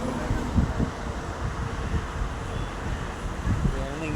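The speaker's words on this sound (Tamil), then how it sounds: "இங்கே ஆற்றுல தள்ளி நல்லா பயங்கரமாக காற்று." Strong wind blows steadily beside a river, a continuous loud rushing roar with gusty buffeting on the microphone and occasional low thumps, with no voice over it.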